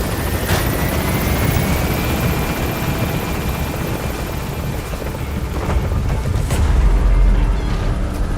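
A helicopter hovers at a landing zone in the Metal Gear Solid V video game, a steady loud rotor roar with deep rumbling bursts swelling near the end, alone without talk.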